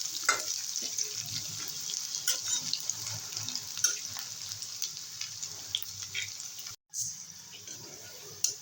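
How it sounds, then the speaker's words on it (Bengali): Dried red chilies and crushed garlic fry in hot oil with nigella seeds, making a continuous close hiss and crackle dotted with light stirring clicks and one brief dropout. "হালকা লাল লাল করে ভেজে নিলাম"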